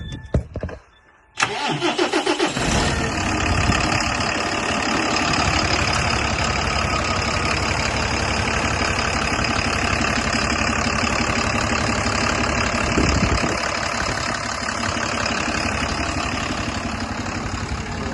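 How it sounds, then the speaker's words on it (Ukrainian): A DAF LF220 Euro6 truck with a PX7 engine and 325,000 km on it cranks briefly, fires up and settles into a steady, loud diesel idle that runs on evenly with no voices. "Зараз покажу роботу двигуна також."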